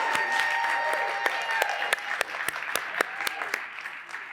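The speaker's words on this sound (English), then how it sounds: "One more round of applause" An audience applauds a musician after a live session performance: steady, fairly loud clapping with sharp individual claps standing out, fading slightly toward the end.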